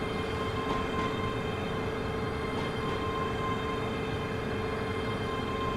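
Train arriving at Croy station in Train Simulator Classic, a steady rumble of a train with a constant tonal hum throughout and a few faint clanks, with no talk.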